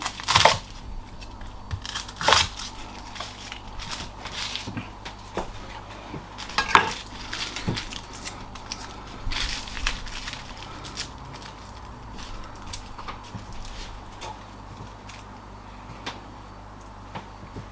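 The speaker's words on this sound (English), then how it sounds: "I'm just gonna bash these a little bit." Garlic cloves being bashed on a kitchen surface while cooking crispy Chinese-style chicken, a few sharp, close knocks spaced seconds apart over a faint steady background hum.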